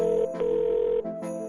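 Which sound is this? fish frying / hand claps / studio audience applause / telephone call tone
telephone call tone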